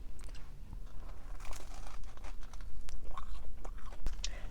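Close, crisp bites and chewing on the crusty end of a Papa John's Philly cheesesteak Papadia with garlic sauce, a few sharp crunches followed by steady wet mastication with no talk.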